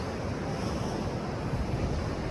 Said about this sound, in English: And that is the sea.